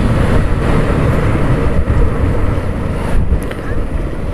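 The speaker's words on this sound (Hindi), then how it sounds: "मैं ये वाली बाइक भगाने वाला हूँ, बिल्लो रानी सुजुकी की।" A Suzuki motorcycle ridden at speed on an open road, with heavy wind buffeting the microphone in a loud, continuous roar and a voice speaking faintly underneath.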